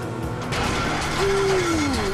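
A boat engine breaks down in Grand Theft Auto V, giving a loud, brief burst of mechanical clanking and grinding with a crash-like rattle and a rising whine, without speech.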